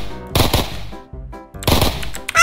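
Rapid automatic gunfire from a gun in Minecraft, two loud bursts of quick rattling shots separated by a short pause, close and dominant.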